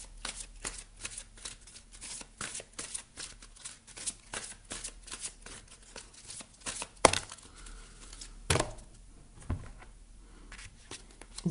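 Oracle cards being shuffled and drawn by hand, a steady run of quick papery riffles and flicks with a few sharper snaps near the end, close and fairly quiet with no talking.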